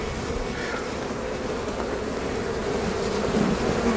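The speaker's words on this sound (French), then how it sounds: "Il y a beaucoup d'abeilles pour la saison." A dense, continuous hum of many honeybees swarming around an open hive, loud and close, steady throughout with no talking.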